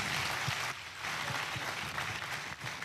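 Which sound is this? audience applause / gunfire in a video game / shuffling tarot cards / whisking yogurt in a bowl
audience applause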